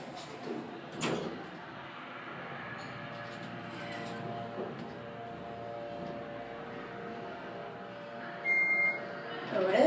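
Otis LRV3 elevator doors sliding open and closing inside a school building, a faint, muffled rumble amid background hum, with a brief chime or beep near the end.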